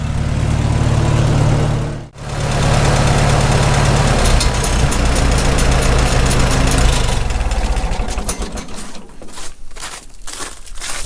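A Farmall H tractor engine idles while warming up on a cold day, a steady low chugging drone with a brief cutout early on, later giving way to rougher, uneven knocking and crinkly rattles.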